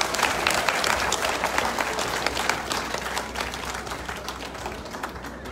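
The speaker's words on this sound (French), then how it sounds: "Il faut applaudir le Front Populaire Ivoirien" Sustained, dense applause and clapping from a large audience at a political rally for the Ivorian Popular Front, steady and loud throughout with crowd noise and no talk on top.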